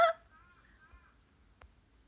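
Outdoor crows caw once loudly at the start, followed by a fainter trailing call and a brief distant click in a quiet morning setting.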